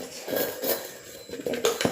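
Metal utensils and dishes clatter close by, a quick run of irregular clinks and knocks with a brief lull in the middle before sharper rattles pick up again.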